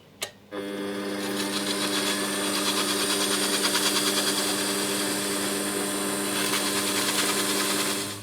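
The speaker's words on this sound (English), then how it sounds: "So I've got some sandpaper here. I'll just see if that does anything to it." An old NordMende Elektra 58 radio case is sanded with 1200-grit wet and dry sandpaper in a continuous, fairly loud rasping rub, close up, after a sharp initial knock.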